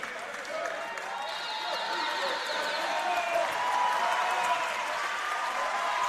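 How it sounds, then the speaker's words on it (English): Crowd at a 2019 Spalding Waratah Division 1 men's basketball semi-final between the Tamworth Thunderbolts and the Hills Hornets, broad steady cheering and applause filling an indoor court, growing slightly louder throughout. "A much bigger cheer from the Tamworth Thunderbolts and the Hills Hornets as they re-enter the court"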